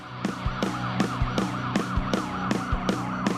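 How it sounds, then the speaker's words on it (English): Police car siren in a stolen-cop-car escape scene, a steady repeating wail with rhythmic pulses sounding loud and close over a low engine rumble, with no talk. "keeping your sirens blaring and your lights flashing at all times"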